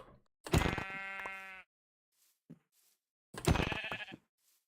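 Two loud, wavering sheep bleats in Minecraft, each about a second long, separated by a short gap with a faint soft thump between them.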